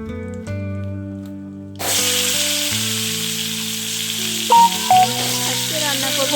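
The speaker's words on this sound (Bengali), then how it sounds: "পটলটাও ভেজে নিচ্ছি, আর আলুটাও ভালো করে ভেজে তুলে নিচ্ছি" Pieces of pointed gourd and potato frying in oil in a village home kitchen: a loud, dense sizzle bursts in partway through and carries on over steady background music.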